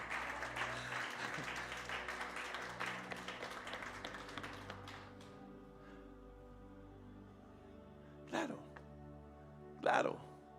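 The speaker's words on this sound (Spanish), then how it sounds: "Dale un aplauso a Jesús." A church congregation applauds during a sermon: dense, full clapping fills the room for several seconds, then thins and fades into quiet, with two short sharp bursts near the end.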